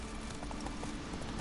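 Geralt's horse Roach trotting in The Witcher 3, a steady clip-clop of hooves carried over a dense, constant game soundscape with no one talking.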